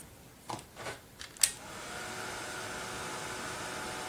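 A heat gun warming embossing powder on a craft project starts with a few short knocks and rustles, then settles into a steady, moderately loud blowing hiss that runs to the end.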